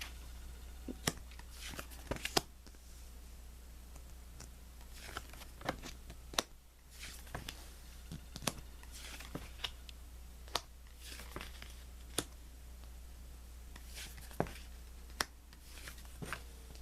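Soft, quiet rustling of tarot cards being shuffled, with sharp intermittent snaps and flicks scattered throughout against a low steady hum.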